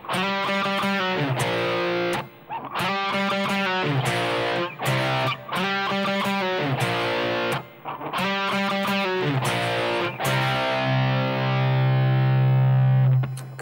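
A distorted electric guitar plays the interlude from a song: chugging chord phrases in repeated bursts with short gaps, ending on a sustained ringing chord, loud and alone.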